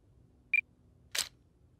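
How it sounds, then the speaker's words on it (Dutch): A camera switched on: a short high electronic beep followed a moment later by a brief sharp mechanical click, both close and isolated against near silence. "Ik zet even mijn camera aan."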